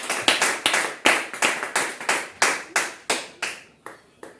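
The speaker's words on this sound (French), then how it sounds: "Est-ce qu'on peut donner une offrande d'acclamation pour la sœur?" A church congregation claps together in acclamation, about a dozen loud, rhythmic, evenly spaced claps ringing out in a reverberant hall with no talk.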